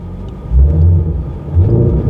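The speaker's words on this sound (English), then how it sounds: "That was a really fun launch." A 2020 Ford Shelby GT500 on summer tires launches hard, its engine rumbling loud and close in deep surging bursts as it accelerates.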